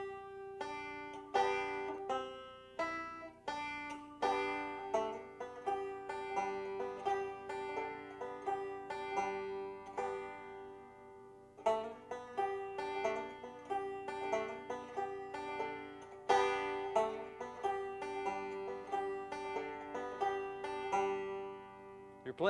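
Banjo picks out the bluegrass tune Cripple Creek from start to finish, bright plucked notes in a steady rolling rhythm, clear and close with a brief pause midway before the melody repeats.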